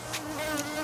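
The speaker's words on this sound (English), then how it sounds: "another bee is mad at me" An angry honey bee buzzes close to a beekeeper at a hive, a brief, steady whine rising and falling in pitch.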